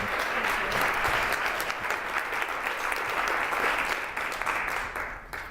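A seated audience applauds to welcome a speaker to the podium at a franchising and licensing talk, with steady, dense clapping held for several seconds before it begins to thin out.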